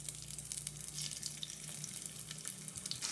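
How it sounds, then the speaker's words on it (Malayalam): Cauliflower pieces fry in hot oil with a faint, steady sizzle and light crackling, quiet and uninterrupted, with no voices. "അങ്ങനെ നമ്മൾ കോളിഫ്ലവറൊക്കെ ഒന്ന് ഇട്ട് കൊടുത്തിട്ടുണ്ട്."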